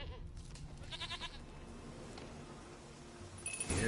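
A goat in a PS4 video game bleats twice, a short quavering call near the start and another around the middle, faint against a quiet background with a light bell-like clink, followed by a louder thump at the end.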